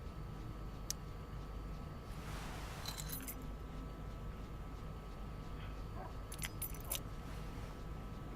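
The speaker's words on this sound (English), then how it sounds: "Go give David his keys" Keys jangle in the Life is Strange video game, with a few short metallic clinks standing out over a steady low background hum.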